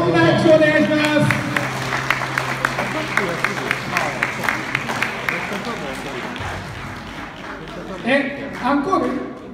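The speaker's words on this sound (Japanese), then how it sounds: "大きな拍手お願いします。" Audience applause after a sanshin performance, a steady patter of clapping from a modest crowd, with a sustained instrument note fading beneath it at the start and voices calling out near the end.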